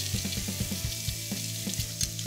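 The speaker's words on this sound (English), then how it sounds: "Using our teppanyaki pan, we're gonna heat up just the beef." Beef frying on a hot teppanyaki pan, a steady close sizzle broken by a quick run of light scraping or stirring taps.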